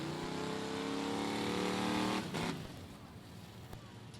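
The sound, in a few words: race car driving on race track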